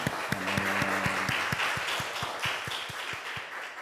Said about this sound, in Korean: 우리 살아계신 하나님께 감사와 찬양과 영광의 박수 올려드리겠습니다.